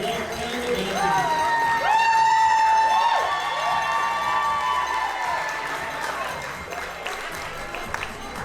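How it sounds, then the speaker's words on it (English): Wedding guests clapping and cheering as a bride and groom walk down a bridge outdoors, a steady crowd roar with whistles and shouts, swelling in the middle then easing off. "Let's give them a applause going as they walk down the bridge."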